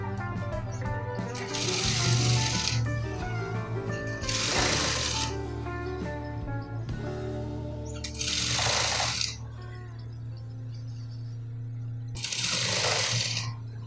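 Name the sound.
sewing machine stitching neck piping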